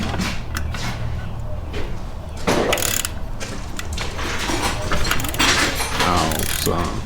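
Wrench working a stubborn nut loose on a RZR water pump during a rebuild, giving repeated metallic ratcheting clicks and scraping clanks at close range, with louder bursts near the middle and end.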